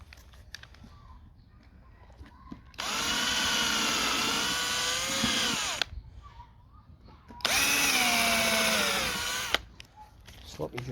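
A power drill bores into wood while building a bird house: two sustained whining bursts of roughly three and two seconds, loud and close, with rising and falling pitch as the load changes, separated by quieter pauses with faint voice.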